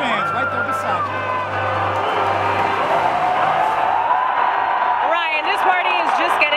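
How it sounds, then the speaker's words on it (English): A stadium crowd of Tampa Bay Lightning fans roars, whoops and cheers continuously as the Stanley Cup is presented after a 1-0 win, loud and dense throughout, with a reporter talking over it. "the crowd here is going wild"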